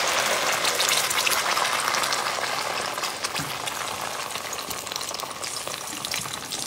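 Onion frying in a pan for a homemade recipe, a dense, bright crackling sizzle that starts strong and eases slightly, with faint stirring clicks.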